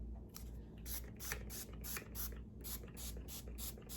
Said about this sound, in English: I'm going to put some spray butter on these